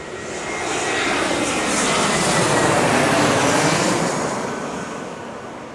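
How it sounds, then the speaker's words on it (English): A low-flying airplane passes right overhead on a summer evening in San Diego, its engine roar swelling to a loud peak mid-pass and then easing off slightly, with no talk. "Plane flew right over us."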